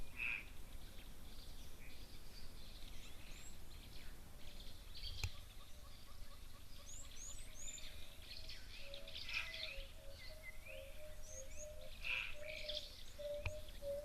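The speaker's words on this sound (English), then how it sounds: "Can hear the emerald spotted wood doves in the background, that sort of descending dove call" Emerald-spotted wood doves give soft descending calls in the background at a waterhole, with other birds chirping over a steady outdoor hiss, fairly faint and distant.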